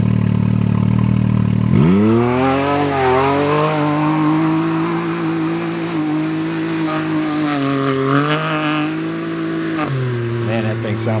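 Can-Am Maverick X3 side-by-side fitted with an aftermarket race exhaust, idling loud and close then revving up in a rising, throaty surge that holds steady with small throttle blips and drops back near the end.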